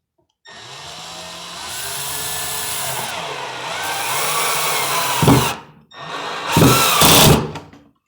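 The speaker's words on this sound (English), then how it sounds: "Power screwdriver here. Get this going a little bit." A power screwdriver drives screws into an open-splice junction box on a finished wall, with a loud, sustained motor whine for about five seconds, a brief stop, then a second shorter burst.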